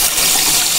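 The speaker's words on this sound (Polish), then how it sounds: "Naciskamy. Woda leci." A Brudas hose-end spray nozzle shoots water in a loud, steady, hissing gush, a continuous close-up rush with no pauses.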